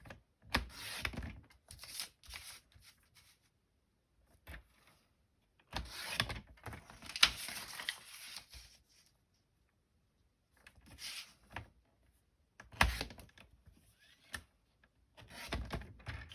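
A blade slicing off surplus material during a folding and cutting job for a papercraft expansion build, heard as short bursts of dry scraping cuts separated by pauses, close and fairly quiet, with no talk.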